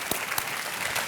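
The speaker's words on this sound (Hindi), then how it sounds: "अभिनंदन करते हैं तालियों के साथ" Studio audience on a television quiz show applauding, a brief burst of continuous clapping with a couple of sharper claps standing out.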